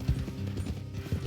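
Horse hooves clip-clop in Red Dead Redemption 2, a quick run of soft, close, rhythmic thuds over a brief moment with no talk.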